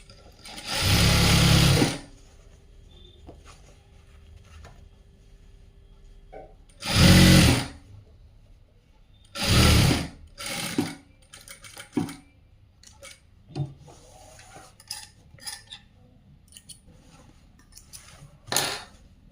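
Sewing machine stitching a blouse with a middle seam in a tailoring cutting-and-stitching session, heard as several short loud runs of stitching separated by quieter pauses and small handling clicks.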